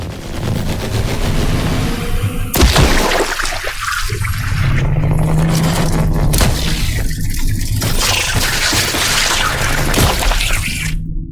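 Loud gunfire in the survival game The Last Caretaker, with sharp bursts cracking out at about 2.5, 6 and 7.5 seconds over a constant mechanical hum and watery background ambience.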